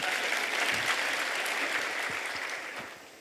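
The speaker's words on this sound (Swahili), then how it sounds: "Simnipigia makofi tena." Dense, steady applause from a conference audience at the ICPAK 40th annual seminar in Kenya, continuous and fairly loud throughout, tapering slightly at the end.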